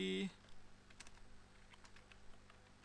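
Fingers tapping out an AI prompt on a computer keyboard: faint, soft keystrokes in short irregular bursts, following a brief loud tone at the start.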